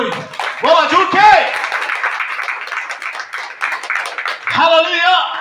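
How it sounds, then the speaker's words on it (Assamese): A church congregation claps steadily for several seconds, a dense patter of many hands between loud voices shouting at the start and end. "আমি তালি বজাই সব ধন্যবাদ করি"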